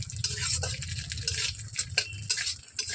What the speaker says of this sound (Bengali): প্রথমে এটা ভেজে নিচ্ছি, এই শুটকি মাছটা